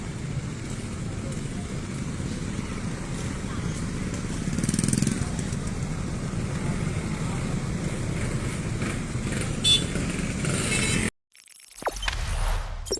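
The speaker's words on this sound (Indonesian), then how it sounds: "Itu bisa kita lihat bis-bis mulai berangkat." Buses pulling away into congested morning traffic on the Kepahiang–Pagar Alam road during the Lebaran return rush, a steady engine rumble with wind buffeting, a louder swell midway and an abrupt cut near the end.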